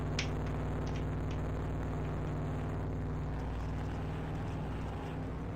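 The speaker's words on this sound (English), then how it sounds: "I guess that's just the sound of like 30 overlapping NASCAR engines" Around thirty NASCAR stock car engines roar together in a racing video game, a dense, continuous droning blend that stays loud and steady from start to finish.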